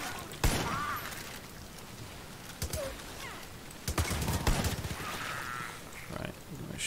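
Shotgun blasts in Far Cry 5 Arcade's zombie mode crack out as a few sharp, loud, separate bursts amid game noise and scattered clicks.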